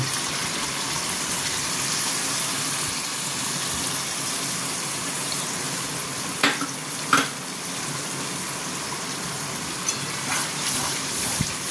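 Yogurt going into a sizzling tomato masala for echor (jackfruit) kosha fills the pan with a steady, close frying hiss, broken by a few brief splutters and a soft clack near the end, with no talking.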